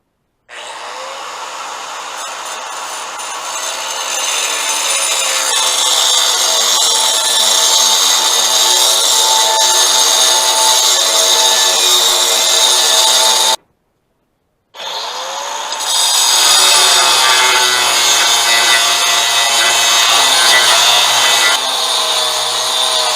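Lenox Metal Max cut-off wheel slicing through steel pipe, 2-inch schedule 80 and 1.5-inch schedule 40, with a loud, steady high-pitched grinding whine; it stops briefly, then restarts and runs on with a dropping tone as the wheel bites.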